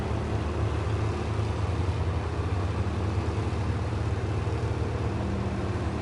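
Truck engine running in the SnowRunner video game, a steady, loud, low rumbling drone that continues without a break and with no talking.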